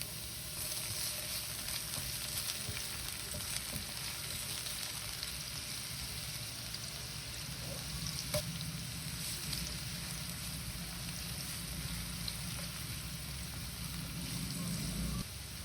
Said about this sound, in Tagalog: Then igisa dito ang sibuyas at ng bawang for a few seconds.